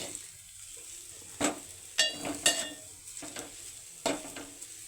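Carrots fry in a pan with a low continuous sizzle, broken by several sharp scrapes and clacks as a utensil stirs them against the metal.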